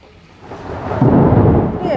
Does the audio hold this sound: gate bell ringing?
no